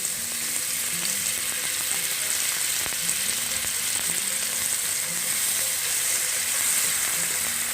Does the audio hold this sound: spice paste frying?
yes